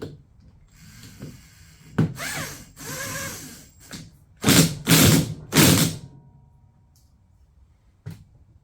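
Ratchet or power driver spinning the nut back onto the steering wheel of a Club Car DS golf cart, several whirring bursts of about a second each, close and fairly loud, with brief clicks between.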